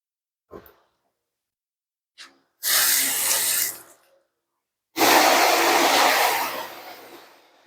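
Water sprays rinse a car during a wash, with two loud hissing bursts of spray, the second longer, after a few brief spurts, close and free of talk.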